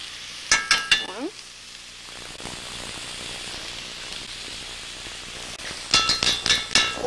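Garlic and tomato paste cook in a pot, a soft steady sizzle running under bursts of spoon scraping and clanking against the pot near the start and again at the end.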